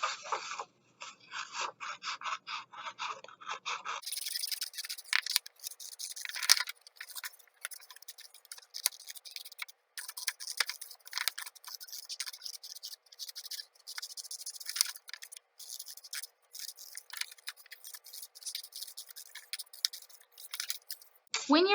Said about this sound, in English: I'm going to get out some scissors and cut out my pumpkin right up against that edge